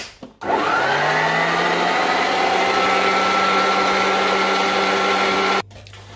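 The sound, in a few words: electric mixer mixing egg yolks into coconut cake batter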